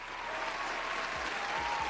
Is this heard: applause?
yes